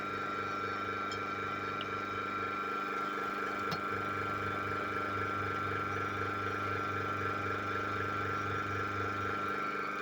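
Steady refrigerator compressor motor hum, repurposed as an air compressor, with a constant low drone and faint rhythmic pulsing, running evenly throughout without any talking.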